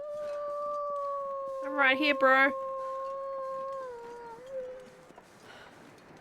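A dog howls in a video game with long, steady wavering tones lasting several seconds, swelling into a brief burst of yelps midway, while someone talks over it.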